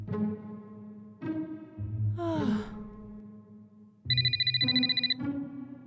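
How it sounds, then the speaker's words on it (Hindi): A mobile phone ringtone sounds in a Hindi film scene, a loud repeating electronic tone in short bursts near the end, following sighs and a gasp with no speech. "मम्मी का फोन बज रहा है"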